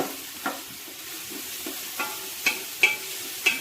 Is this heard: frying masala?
yes